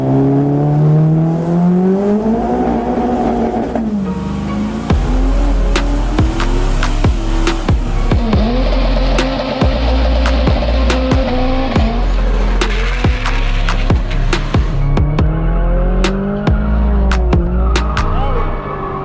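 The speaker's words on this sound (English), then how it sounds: "We're going to put some pump e85 in this thing. And it's still cold out, so we'll see how this first start on tune goes." A turbocharged LS1 Camaro drag car on pump E85 starts cold, then its engine revs up and down repeatedly with loud, rising and falling pitch, close and dominant, with faint talk in the background.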